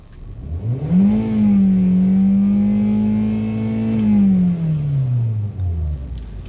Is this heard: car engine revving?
yes